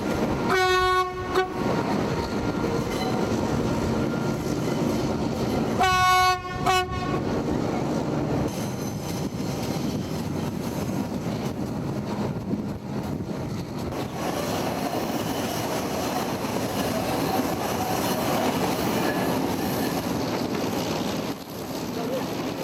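A passenger train descending from the Andes highlands rumbles steadily along the track, its horn sounding two clear blasts near the start and again a few seconds later over the continuous rolling noise.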